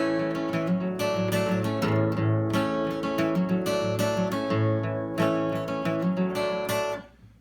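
An acoustic guitar plays a riff: a bass note, strums and hammer-ons with repeated upstrokes, close and clear, ringing out at the end.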